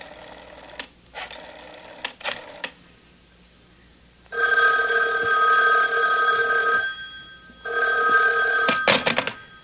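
A telephone bell rings as a radio drama sound effect: three short bursts first, then two long, loud sustained rings, close and clear, with no voices over them.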